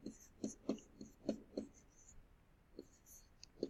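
A number written by hand: quick, faint marker or pen strokes in a short rhythmic series of scratches, close and quiet, with a couple of later strokes after a pause.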